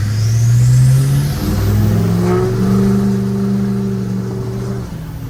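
An L5P diesel truck engine revving at half throttle, a loud, steady, close engine note that climbs and holds for about five seconds, with a turbo whistle faintly above it.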